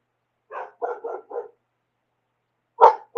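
A pet dog barking nearby in a quick burst of four short yaps, then a pause and one louder bark.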